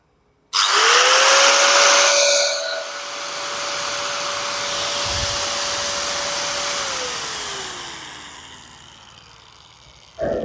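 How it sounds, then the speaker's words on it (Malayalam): A MAL brand 950W heavy-duty angle grinder rated at 11000 RPM starts abruptly, runs at a loud steady high whine for several seconds, then winds down gradually toward a stop. "ഇതാണ് നമ്മുടെ മെഷീൻ വരിക തൊള്ളായിരത്തി അമ്പത് വാട്സ് പതിനൊന്നായിരം ആർ പി എമ്മിൽ വരുന്ന നല്ല ഹൈ ക്വാളിറ്റി മെഷീനാണ്"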